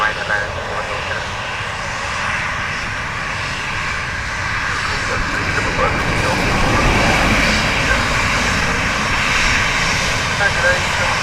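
A Ryanair airliner lands on runway 28 left at Dublin Airport, a steady, loud, broadband roar of jet engines that swells slightly partway through, with no voices.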